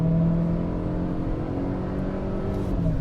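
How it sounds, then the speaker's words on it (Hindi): A petrol SUV engine revs hard under full acceleration, a loud, steady throaty drone with rising harmonic tones heard from inside the cabin. "अब देखते हैं भाई तरीके से सिस्टम के साथ इसको मैंने फुल एक्सेलेरेट कर दिया है।"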